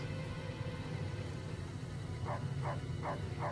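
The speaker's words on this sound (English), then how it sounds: "There's a dog somewhere." A dog in the video game Fallout New Vegas barks four times in a quick, evenly spaced series near the end, sharp and moderately distant over a constant low in-game ambient hum.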